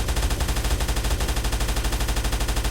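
A 7.62 mm machine gun fires from a vintage military vehicle in a game mod, shown in cockpit view: a loud, steady stream of rapid rhythmic bursts, up close and without any talk.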